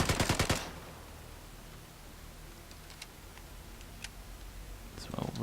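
Rapid automatic gunfire at a shooting range in Vigor, a short loud volley of evenly spaced shots at the start, followed by quiet with scattered faint clicks and ticks.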